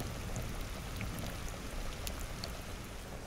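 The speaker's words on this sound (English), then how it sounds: "rain starts. It's going to be a fast mountain rain." A fast mountain rain pours down steadily, a soft, even hiss of falling drops with faint scattered patters, quiet and unbroken.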